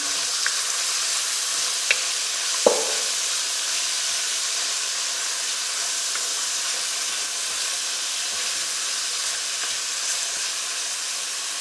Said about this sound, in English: You see how that's frying off nicely now.